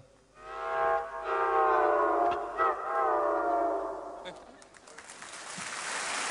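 Steel guitar imitating a Western Union railroad train whistle, sustained harmonic wailing tones that swell and bend for about four seconds, then fade into crowd noise or applause.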